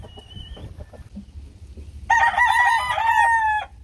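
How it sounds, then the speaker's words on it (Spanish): Three roosters crow at once in a loud, overlapping cock-a-doodle-doo, following a moment of softer clucking and farmyard noise. "Mira, cantaron los 3 a la misma vez."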